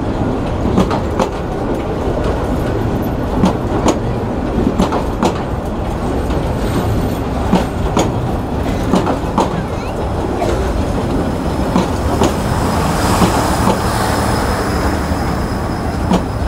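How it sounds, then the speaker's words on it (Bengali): A local commuter train rolls into Rangpur railway station, its loud rumble and rhythmic clickety-clack of wheels on rail joints carrying on steadily, with brief squeals and occasional platform voices. "একটি লোকাল কমিউটার ট্রেন।"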